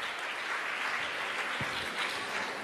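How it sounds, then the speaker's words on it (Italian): An audience at a meeting with teachers applauds, producing a soft, even, continuous wash of many hands heard from a distance, with no talking over it. "farei un applauso anche a Stefano Versari"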